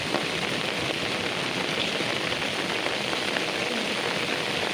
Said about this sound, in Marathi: आता पाऊस पण आलाय